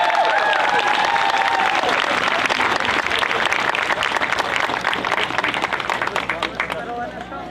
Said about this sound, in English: Let's give another huge round of applause for Chris Pappas.